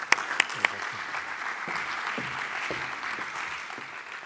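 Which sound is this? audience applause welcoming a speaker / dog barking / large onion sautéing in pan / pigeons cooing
audience applause welcoming a speaker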